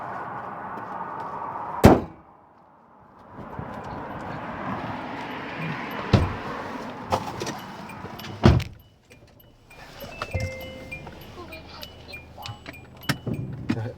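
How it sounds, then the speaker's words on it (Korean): A Korando Sports pickup fitted with an aftermarket fuel-saver device, with a sharp door-like thump, the engine cranking and settling into a low idle, further clunks, then a steadier running hum with faint voices nearby. "사장님 시동을 한번 걸고 한번 운행을 또 한번 해보시죠"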